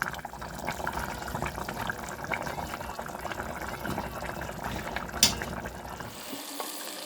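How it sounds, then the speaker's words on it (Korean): Diced potatoes boiling in a covered pot over high heat give a steady bubbling, simmering rush with a brief clink near the end, close and fairly loud with no talking. "뚜껑 덮고 강불로 끓일게요. 보글보글 끓어오르면 감자 익힘 상태 보고 양파랑 두부 넣어줘요."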